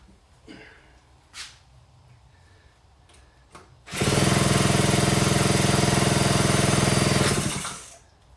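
Kawasaki Trail Boss ATV engine stays silent through a few faint cranking thumps, then fires and runs for about four seconds with a loud, buzzing rapid exhaust note before cutting out abruptly.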